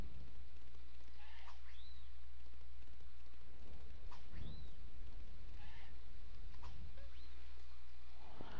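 Heavy rain makes a steady, dense hiss throughout, with a few brief chirping tones rising above it at intervals.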